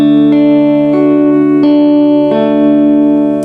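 A guitar chord finger-picked one string at a time: a handful of clear plucked notes ring out in turn and overlap into a sustained, close chord, with no talking.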